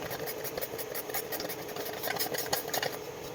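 A blender whirs steadily throughout, a dense motor drone with a rapid rattling pulse, close and continuous with no talking.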